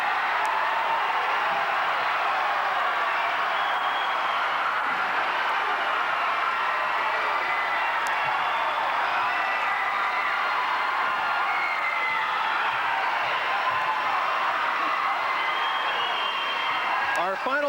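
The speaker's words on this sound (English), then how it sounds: "the hometown crowd celebrates" A hometown high school basketball crowd roars after a backwards two-hand slam dunk, a dense, sustained wall of cheering and shouting that holds loud and steady throughout.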